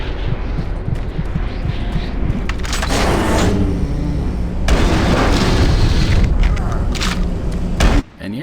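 An oxygen tank blows up in Doom 3, a deep booming blast with a rumbling tail among other game noise, a voice talking over it, ending in a sudden cut.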